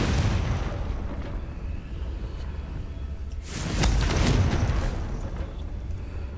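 Spell blast explosions in the fantasy action game Hogwarts Legacy, a continuous rumbling roar with a louder burst partway through, played alone without talk.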